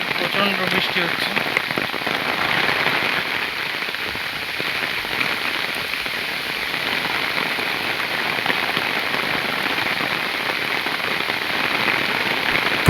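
Heavy rain falls hard on a village road between bamboo thickets in the monsoon, a constant close roar of drops and spatter, loud and even throughout, with no one speaking.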